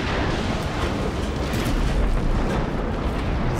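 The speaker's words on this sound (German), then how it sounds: "Das muss explodieren." A loud, continuous roar of explosions fills the whole stretch in Just Cause 3, with no gaps and no talk over it.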